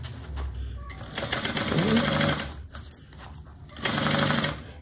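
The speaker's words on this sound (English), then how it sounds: "Okay, so now we're actually sewing this together, half an inch. Okay, start at the top, back stitch." A sewing machine stitches a half-inch seam on a bag, starting at the top with a backstitch, running in steady rapid bursts with short pauses between them, close and loud, while someone briefly speaks.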